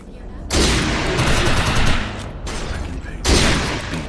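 Overcharged weapon fire in the game Defiance: loud, dense bursts of rapid shots in two or three long volleys with short lulls between them, close and forceful.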